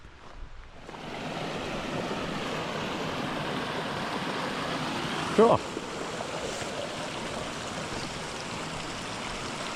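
Mountain creek headwaters on the Colorado Trail rush in a steady, close broadband wash, and a hiker briefly speaks over the flowing water partway through.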